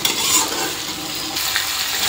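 Paneer curry masala being stir-fried in a pan, a continuous close sizzle with scraping stirs running steadily throughout, no talking.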